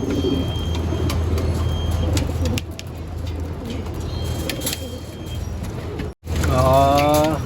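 Pigeons cooing in a club loft after training, a steady layered murmur of soft throaty coos close by, with a loud fluttering burst near the end.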